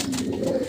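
A young pigeon coos in one short, low, throaty burst, close and clear with no other sound over it.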